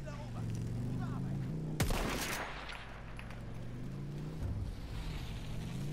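Gunfire in the World War I shooter Battlefield 1: a sharp, loud shot burst near the middle, with scattered distant firing and a low rumbling battle bed underneath, and voices talking over it.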